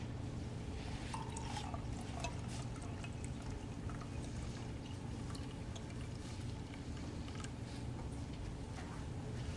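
Liquid poured into a flask during an acid and base test with universal indicator, a steady soft pouring and trickling running the whole time beneath a constant low background hum, with no talking.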